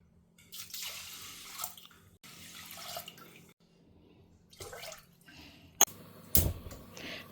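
Water is poured into a pot for cooking mango rice in a home kitchen, giving several bursts of soft splashing and trickling with brief pauses between them, ending in a final sharper splash.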